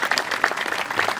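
Brief burst of audience applause for performers at a daytime cultural program of the Murthal Mahotsav festival, steady dense clapping at moderate loudness throughout.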